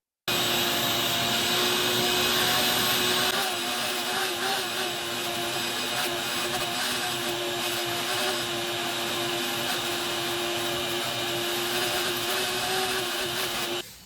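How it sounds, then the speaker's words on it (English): A shop vac cleans the interior of a 1969 Ford F-250 in a garage, its loud steady whine droning close and continuous for the whole stretch, with a brief change in tone early on and no talk. "get the shop vac because I don't really want to blow it out of here"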